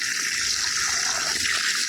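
Steady, dense rush of water gushing continuously out of a borewell, loud and close, with no voices.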